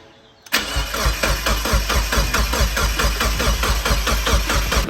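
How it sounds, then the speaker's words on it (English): A turbocharged Mazda Miata engine cranks over on the starter with a fast, even chugging rhythm after a sudden start, loud and close, with no fuel going in so it does not fire. "So we're just gonna crank it."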